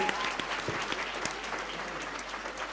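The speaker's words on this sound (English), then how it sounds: "we give them one more round of applause" A crowd applauds the winners of the National Drama and Film Festival at a presidential ceremony, a sustained, dense clapping with a few sharper nearby claps standing out, steady throughout.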